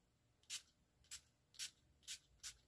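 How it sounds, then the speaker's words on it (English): NYX Dewy Finish Setting Spray mists over a made-up face in five short, crisp hissing pumps, evenly spaced and close up, with near silence between them. "So to set all that, I'm going on my NYX Dewy Finish Setting Spray."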